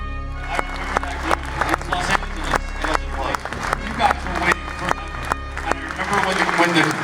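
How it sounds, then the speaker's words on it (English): A Star Trek convention crowd clapping together, a string of sharp unison claps at a fairly steady rhythm over a background hum and crowd murmur. "So we all clap at the same time."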